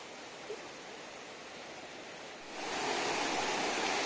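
Rain-swollen floodwater runs past a village plantation in the monsoon, giving a broad, continuous rushing wash that swells louder partway through, with no talking.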